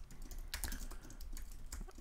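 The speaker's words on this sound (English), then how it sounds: "I'm randomly just staring at the screen and typing" Typing on a computer keyboard, a quick, irregular run of close key clicks with a few sharper taps, with no talk.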